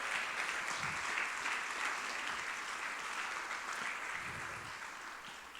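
A church congregation applauds: steady, dense clapping from many hands that sounds from a moderate distance and fades slightly toward the end.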